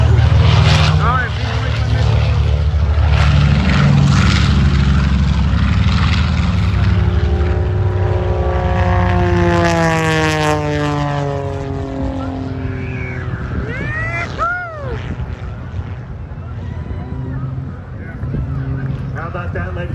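Aerobatic propeller airplane from the Aeroshell Aerobatic Team performing at the Rose City Airfest airshow, a loud droning engine whose pitch sweeps up and down through rolls and dives, with an announcer talking over it.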